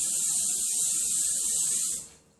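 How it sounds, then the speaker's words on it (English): An aerosol can of cooking spray hisses in one continuous burst for about two seconds into a container, close and steady, then cuts off. "give the inside of your container a liberal spray"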